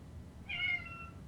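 A single short cat meow, clear and fairly close, rising and fading within half a second over quiet background hiss, with no talk.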